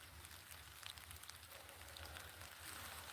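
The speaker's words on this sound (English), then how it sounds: "Can you hear the rain?" Steady rain falls outside on a farm, a soft, even hiss with scattered drip ticks, faint and continuous throughout with no voices.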